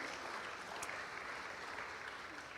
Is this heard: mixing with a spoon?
no